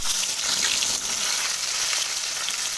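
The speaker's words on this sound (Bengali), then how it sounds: "লো ফ্লেমে খুব সুন্দর করে ভিতর পর্যন্ত আলু পটলগুলোকে ভেজে নেব।" Sliced potatoes and pointed gourd fry in plenty of mustard oil over a low flame, making a loud, dense, continuous sizzle close by, with no talking over it.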